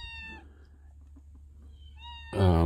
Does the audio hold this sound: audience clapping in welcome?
no